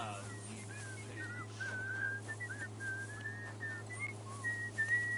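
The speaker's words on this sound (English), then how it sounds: "Everybody's fucking whistling." Several characters whistle in Kingdom Come: Deliverance 2, wavering melodic tunes overlapping near and far over a steady low hum of ambient game sound, with no talk.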